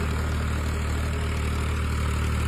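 A farm tractor engine runs at a steady, heavy low rumble, close and continuous with no break and no talking.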